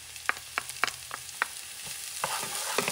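Minced garlic frying in a pan for Spanish octopus rice gives a soft sizzle under a run of sharp utensil clicks and scrapes as it is stirred, fairly quiet and close.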